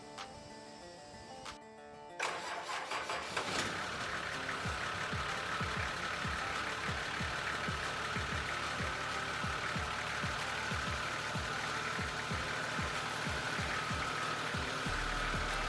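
A Nissan GQ Patrol's TD42 diesel engine cranks and catches after about two seconds of quieter sound, then settles into a steady, loud, close-up diesel idle with a regular clatter for the rest of the time.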